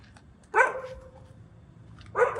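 A dog near the Thailand-Cambodia border crossing barks twice, short sharp barks a couple of seconds apart, moderately close, with a faint whine trailing after the first.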